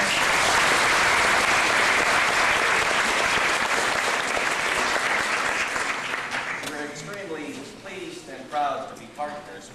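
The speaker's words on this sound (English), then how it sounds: "Please give him a round of applause." Audience applause for a guest speaker at an event, loud dense clapping that fades out over the last few seconds as a voice begins speaking.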